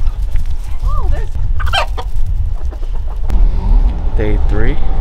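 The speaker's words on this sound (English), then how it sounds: "Get the roosters, get the roosters." Roosters in Key West crow and cluck nearby in warbling calls, mixed with outdoor street noise as people talk in the background.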